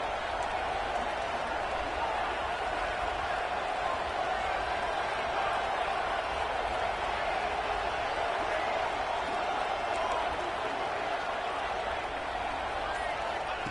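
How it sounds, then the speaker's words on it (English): A football stadium crowd roars steadily to urge the defense toward a red zone stop, a dense, continuous wall of distant cheering under a commentator's voice. "here comes the noise. This crowd is trying to inspire this defense to make a big red zone stop."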